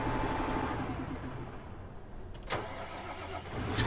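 A Massey Ferguson 8600 tractor engine in Farming Simulator 19 cranks and starts, then settles into a low, even rumble at moderate volume, with a couple of short clicks and no talking.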